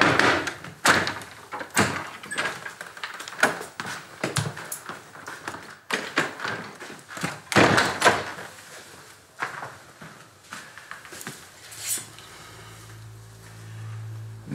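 A door and surrounding furniture are handled in a series of repeated thuds, bangs and rattling knocks, close and fairly loud, with uneven rhythm over about fifteen seconds before a low hum takes over at the end.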